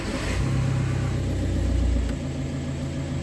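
A 2004 Volkswagen Caddy 2.0 BDJ engine turns over and settles into a steady low rumble, with a brief surge before dropping back to a smooth idle.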